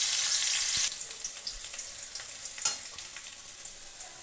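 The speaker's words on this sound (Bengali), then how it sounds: "দেখো বন্ধুরা, আলুটা আমার ভাজা হয়ে গেছে।" Potatoes frying in a pan for mutton-fat ghugni give a steady, fairly loud hiss and crackle that eases slightly after the first second, with a few brief stirring clatters and no talk.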